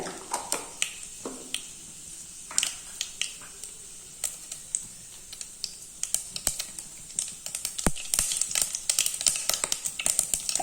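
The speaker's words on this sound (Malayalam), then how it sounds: "എണ്ണ ചൂടായിട്ടുണ്ട് കേട്ടോ ഇനി നമുക്ക് കടുക് ഇട്ടുകൊടുക്കാം" Rapid irregular crackling and popping of half a teaspoon of mustard seeds spluttering in hot oil for rasam, sharp pops scattered throughout and growing denser toward the end.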